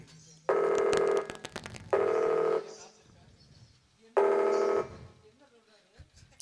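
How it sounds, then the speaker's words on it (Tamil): A telephone rings while a call is placed: three long, even ring tones separated by pauses, clear and fairly loud, with faint voices in the gaps. "மாமாக்கே ஃபோன் பண்ணி கேட்டுருவோம்"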